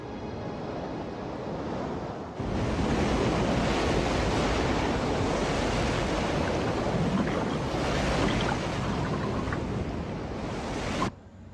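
Old footage of fast-moving tsunami seawater gives a loud, continuous roar of rushing surf that surges in abruptly after a quieter start and then holds steady, broad and buffeting like wind noise, cutting off suddenly at the end.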